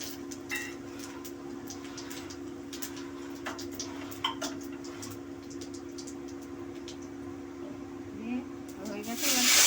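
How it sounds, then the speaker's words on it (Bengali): Two dried red chillies and panch phoron spices spit in hot oil for biulir dal, making scattered sharp crackles and pops over a steady low hum, with a louder burst of sizzling near the end. "এর মধ্যে আমি ফোড়নে এই 2টো শুকনো লঙ্কা 2টো ফাটিয়ে দিয়েছি, আর একটু 5 ফোড়ন দেবো"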